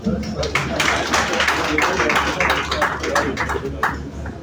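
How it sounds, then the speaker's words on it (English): An audience at a memorial lecture in Ikenne claps steadily, a loud, dense patter of many hands that carries on throughout, with murmuring voices mixed in. "You can clap people."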